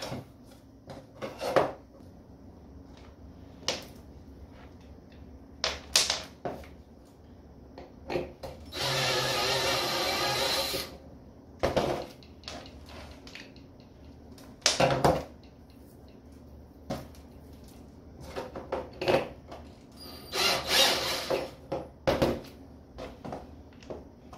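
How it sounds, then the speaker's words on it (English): A power drill fitted with a step drill bit whines in a few bursts, one long steady run in the middle, between many sharp clicks, knocks and handling clatter. "When you're drilling these holes, go very slow"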